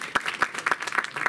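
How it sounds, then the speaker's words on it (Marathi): An audience at an award ceremony for a community honour applauds, with a brief burst of scattered, fairly close hand claps that lands in uneven bunches. "जोरदार टाळ्या व्हायला पाहिजेत."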